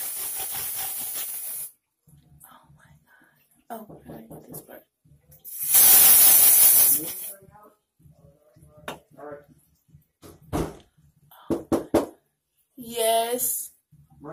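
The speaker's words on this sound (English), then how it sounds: "It's just a dry shampoo." Batiste Color dry shampoo sprayed onto hair in loud, close bursts of hiss, one short and one longer, with people talking between the sprays.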